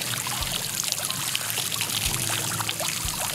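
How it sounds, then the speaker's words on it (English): Low-pressure fresh water runs over the mesh connector of a Waydoo Flyer ONE electric hydrofoil board to rinse off salt, a steady close splashing trickle with a few soft knocks underneath. "Give it a good 30-second rinse to get rid of any salt buildup."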